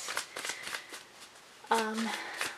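Tarot cards are shuffled close up in a quick series of crisp riffling bursts, with a short chime-like tone midway. A voice speaks softly under the shuffling.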